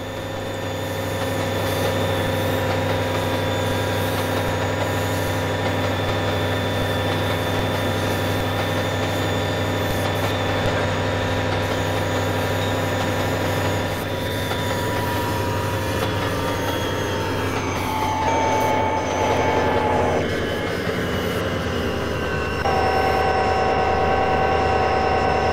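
A train runs steadily in the Trainz 2 video game, a loud, continuous engine drone with steady tonal hum and rail noise, shifting slightly in pitch near the end.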